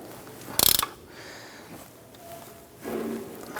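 A ratchet wrench snugs a nut on a Jeep Wrangler front steering knuckle, a short burst of quick metallic clicks close up, followed by quieter mechanical shuffling.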